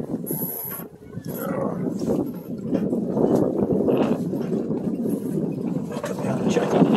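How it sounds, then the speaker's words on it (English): A 2005 Hunter 38 sailboat cruises on Puget Sound in about 12 knots of wind, giving a continuous rush of water and wind buffeting against a close microphone, steady and moderately loud with no voices. "Boat's cruising along nice and quiet"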